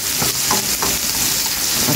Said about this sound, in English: my veggies are done sauteing